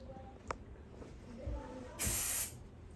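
Insect spray fired from an aerosol can at a lizard in a bedroom, one short, sharp hissing burst after faint rustling and knocks, fairly quiet overall.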